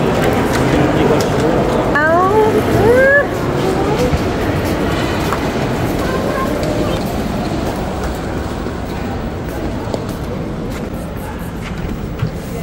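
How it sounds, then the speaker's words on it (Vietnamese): A train rumbles along with a steady rolling roar and brief high squeals around the start, loud and close, and people talk over it in Dresden. "Chính xác là xe lửa luôn á chứ."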